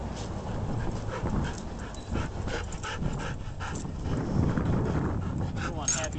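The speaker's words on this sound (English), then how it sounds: "You're one happy dumb dog," A happy, excited dog pants heavily near the microphone outdoors while someone talks over it, with wind buffeting the mic throughout.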